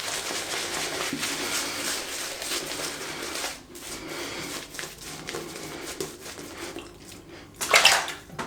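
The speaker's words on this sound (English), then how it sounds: "I'm just gonna dip the whole knot again" A shaving brush knot is dipped and swished in water with gentle splashing and dripping, then a brief louder slosh near the end.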